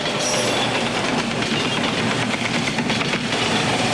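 A train rumbles past close by, with steady rolling noise and faint clickety-clack of wheels throughout.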